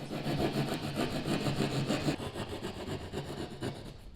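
A saw cuts steadily through a wooden beam for a loft floor frame, a continuous rasping back-and-forth that stays loud and close for the whole stretch, with no pauses.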